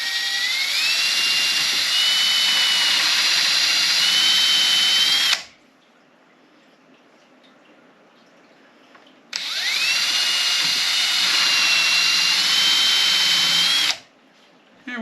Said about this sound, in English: It bores a pilot hole and a countersink for the head.